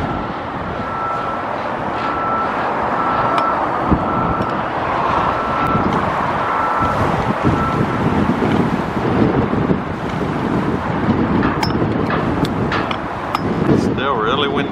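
Strong gusty wind buffeting a microphone outdoors at a stadium construction site in Las Vegas, a loud continuous roar with broad rushing noise that persists throughout, with faint distant mechanical sounds beneath.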